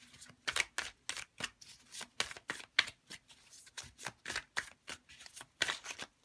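Everyday Witch Tarot deck being shuffled by hand, a fast uneven series of crisp riffling and slapping card bursts, close and fairly soft with no voices.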